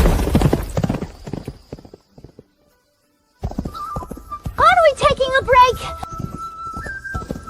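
Horse hooves clip-clopping along a road in a rhythmic run of clear close knocks, followed by a drawn-out neighing whinny, with voices talking over parts of it.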